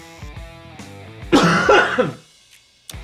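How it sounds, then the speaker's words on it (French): A single harsh cough into a face mask bursts out close by after a few seconds of humming tones, then quiet. "Important de tousser dans son masque"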